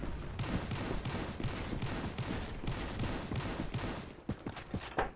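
Automatic gunfire in the free-to-play PC shooter Battle Carnival: a steady, loud stream of rapid shots runs through most of the stretch, then breaks into a few separate bursts near the end, with no talk over it.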